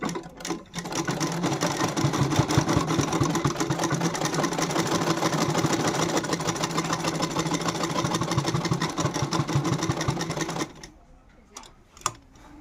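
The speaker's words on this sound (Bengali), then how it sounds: "তো এই যে ফ্রকগুলো সেলাইতেছি।" A sewing machine stitches a child's frock, its rapid rattling whir running loud and steady for about ten seconds before stopping abruptly, leaving a quiet tail with a few faint clicks.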